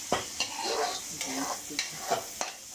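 Tomato masala frying in a pan is stirred with several rhythmic scraping strokes over a soft, steady sizzle close by.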